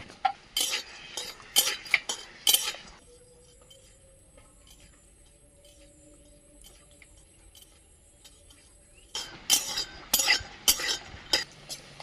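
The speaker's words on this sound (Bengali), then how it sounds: "আগে আমি বাদামটা ভেজে নেব।" Peanuts are stirred as they fry in a pan, making bursts of clinking, scraping utensil strokes at the start and end with a quiet stretch between them, close and moderately loud.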